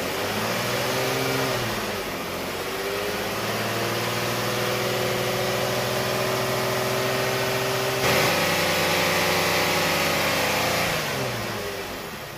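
A 3.7L V6 in a Lincoln MKX or Ford Edge idles steadily after a restart during coolant bleeding. The close, continuous hum wavers as the engine speed shifts slightly, with no talk.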